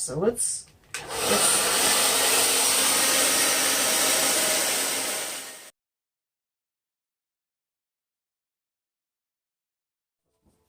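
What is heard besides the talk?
blow dryer with attached funnel on cold shot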